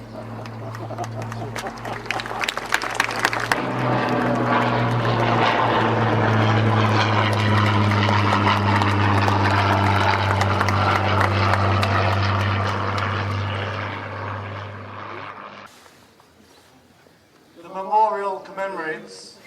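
Propeller aircraft flying over a ceremony at Plumetot, a loud droning engine roar that builds, holds steady, then fades away, followed by a person speaking briefly afterward.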